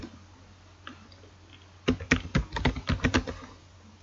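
Typing on a computer keyboard: after a quiet pause, a quick burst of a dozen or so crisp, close key clicks in an uneven rhythm, then stillness.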